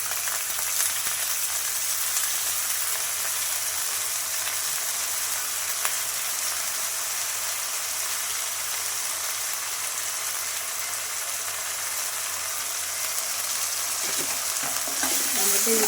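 Onions, green chillies and lentils fry in a pan with a constant, even sizzle that holds steady throughout, close by and with no one talking.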